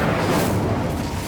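Incendio fire spell cast in Hogwarts Legacy on PS5, a dense, continuous roaring whoosh of flame that stays loud and steady for just over a second with no talk.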